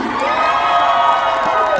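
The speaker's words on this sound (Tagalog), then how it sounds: "Wala ba tayong masigabong palakpakan na may kasamang hiyawan?" A festival crowd at a Filipino fiesta in South Korea cheers and shouts in one loud, sustained burst, with children's voices and whoops rising above a dense roar.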